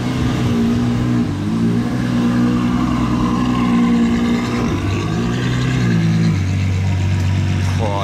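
Ferrari 812 GTS fitted with a Novitec exhaust revs loudly and close by, its deep engine note rising and falling through several steady blips over continuous rumble, with faint talk underneath.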